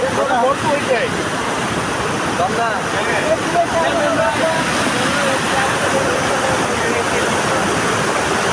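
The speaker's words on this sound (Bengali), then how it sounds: "এখানে আর একটা ঝর্ণা আছে" Waterfall in hilly rocky terrain, a smaller cascade heard as steady broadband rushing water close by, continuous throughout with some wind on the microphone.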